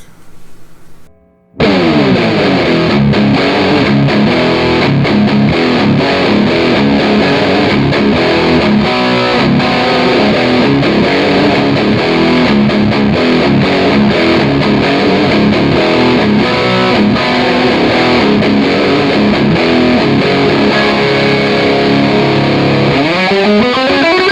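An electric guitar played through a Kemper profiler straight into a recording setup, heavily distorted with no external reverb or EQ, chugs loud and sustained riffs after a short quiet lead-in, dense and unbroken to the end.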